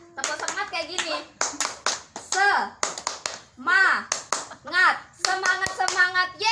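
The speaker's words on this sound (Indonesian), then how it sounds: "buat Bu Nana sekarang kita kasih tepuk semangat. Tepuk semangat kayak gini." A group claps out a rhythmic Indonesian 'tepuk semangat' cheer at a monthly PKH community meeting, bursts of patterned hand claps mixed with children's and adults' voices talking and calling out between them.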